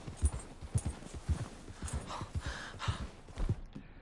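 Galloping horse hooves in Red Dead Redemption 2, an even, rapid series of thumping clip-clops, close and fairly loud, mostly free of talk with faint game ambience behind.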